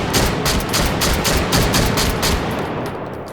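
Rapid string of loud, close shotgun blasts fired in the VR shooting game Hot Dogs, Horseshoes and Hand Grenades, several sharp reports in quick succession that tail off toward the end.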